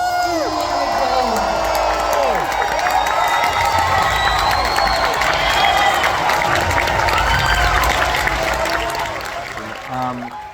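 Audience applauding and cheering as Harrison Ford and the cast come out, a dense sustained wash of clapping with whoops and crowd noise that holds for about ten seconds before easing off, with voices mixed in.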